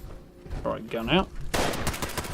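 A sharp burst of rapid gunfire from the video game Fallout 76, fired in a dark area, rings out loud and close right after a short spoken phrase.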